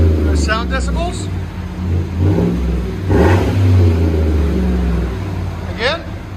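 A Chevy/GMC 5.3L V8 in a GMC Sierra rumbles and revs through an aftermarket muffler with a deep, droning exhaust note that swells briefly in the middle. People talk over it.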